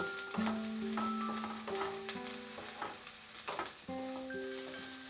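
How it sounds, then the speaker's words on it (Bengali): Chicken soup ingredients cooking in a pan over a high flame, a soft steady sizzle with intermittent scraping and stirring clatter, quiet and close, with faint background music tones and no speech. "আরও 1 মিনিট হাই ফ্লেমে আমি এটাকে রান্না করব"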